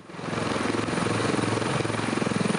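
A rescue helicopter waits with rotors turning, a close, loud, fast rhythmic chopping throb that builds quickly at the start and then holds steady, with no voices.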